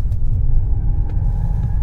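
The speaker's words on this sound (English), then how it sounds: "the car's complaining now as well" Low, steady engine rumble and road noise inside a luxury Mercedes S-Class or Bentley Flying Spur during a road test, loud and continuous with a faint higher whine above, no voices.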